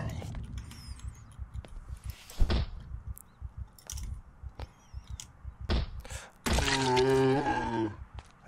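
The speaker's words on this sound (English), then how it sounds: "Is that door they're banging at?" Zombies bang on a door in the Project Zomboid video game, giving scattered dull thumps and knocks with a few sharper hits, ending in a louder sustained tonal burst of game sound.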